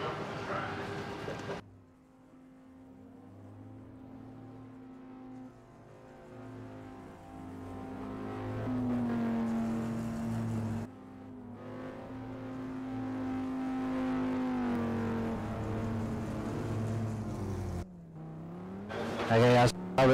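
Race car engines in a GT series racing game at Kyalami, drivers weaving to warm tires and brakes before the start; a sustained engine drone with rising and falling revs, brief gear shifts and a voice speaking over it.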